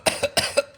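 Three quick, harsh coughs in a rapid rhythm, close and fairly loud, with nothing else around them.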